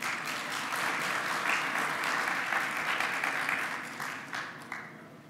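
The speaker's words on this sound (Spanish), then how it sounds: "Entonces, por favor, un fuerte aplauso para el doctor Van de Plas." Audience at a talk on probiotics breaks into dense, sustained applause that stays full for several seconds, then thins into scattered claps.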